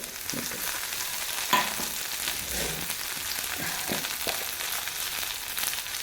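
Cashews and raisins fry in hot ghee for ghee rice, giving a continuous close sizzle with occasional soft stirring scrapes and no talking.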